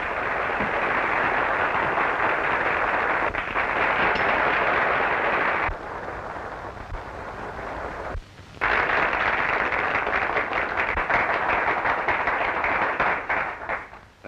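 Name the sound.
audience applause in a theater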